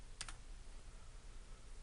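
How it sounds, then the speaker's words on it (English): A computer keyboard spacebar is pressed once, giving a single faint click near the start of an otherwise quiet, softly humming room. "let's press spacebar and try something else"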